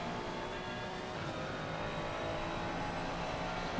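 A Ferrari race car at Monza in a racing video game roars steadily at close range, its engine note holding a dense, continuous drone with no clear breaks or gear shifts.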